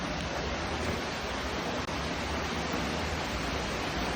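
Waterfall inside Petty John's Cave, a dense, continuous roar of falling water that fills the space evenly and loudly, with no voices over it.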